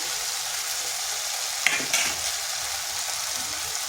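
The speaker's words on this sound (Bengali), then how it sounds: "টমেটোটাও একটু মশলার সাথে কষিয়ে নিলাম" Tomato cooking down with spices in a pan for a vegetarian fig curry, a steady close sizzle with stirring and a couple of brief scrapes of the spoon midway.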